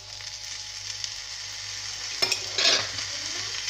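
Ginger-garlic paste frying with rice in a pot for Old Dhaka chop biryani, a steady sizzle with a brief stirring scrape near the end, no voices.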